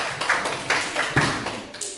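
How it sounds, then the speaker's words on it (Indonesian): Several people clap their hands together in a loose group, the sharp claps coming in uneven bursts at close range in a school setting, with a little talk under them. "tepuk tangan untuk kita semua"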